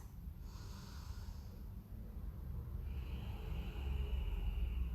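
Slow, deep breaths during a yoga practice session, soft airy inhales and exhales close to the listener with a low rumbling background, no talking.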